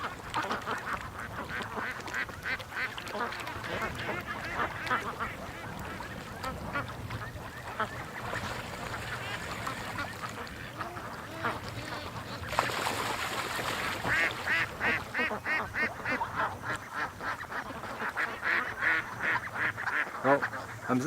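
Many ducks around an outdoor pond near a snapping turtle trap quack in a constant overlapping din, nearby and steady, growing busier and louder in the second half, with faint human sounds underneath.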